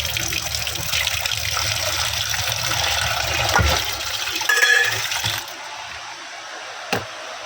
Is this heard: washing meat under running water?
yes